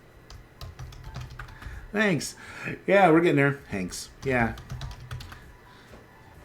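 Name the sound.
typing on a computer keyboard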